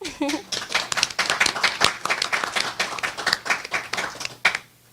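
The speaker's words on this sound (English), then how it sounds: "So let's give it another clap." A university audience at an entrepreneurship week event claps in a dense, lively burst of many hands lasting about four seconds, with a brief voice at the very start before the clapping cuts off sharply.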